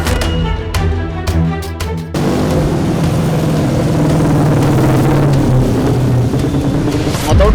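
Dense roadway traffic jam with motorcycles packed on both sides, a steady low rumble of idling and revving engines close by, building after a brief quieter stretch of softer mechanical knocking.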